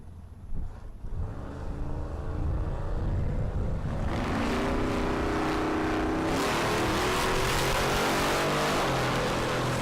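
A Volvo wagon and a Trans Am Firebird launching side by side on a Kansas drag strip during a race week event: engines rumble at the line, then a loud rising roar of acceleration swells and stays intense, without speech.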